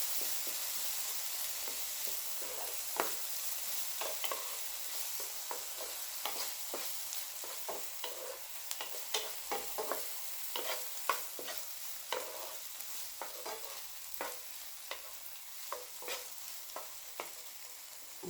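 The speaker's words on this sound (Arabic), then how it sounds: "ونزيدو لها الفلفله، نديروها تطبخ شويش" Peppers fry in a pan while being stirred, a soft continuous sizzle broken by repeated scraping and clinking strokes of the utensil, close but fairly quiet, with no talking.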